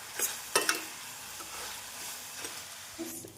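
Onions sauté in a pan for chicken chukka, a soft continuous sizzle with a few sharp clinks of a spoon against the pan, close and fairly quiet.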